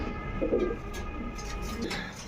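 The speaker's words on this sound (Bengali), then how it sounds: "দর্শক এখানে আপনারা দেখতে পাচ্ছেন একজোড়া দোবাস ডেনিশ কবুতর রেড কালার" Soft, low cooing from a pair of red Danish pigeons, a couple of murmuring coos amid faint background noise, fairly close.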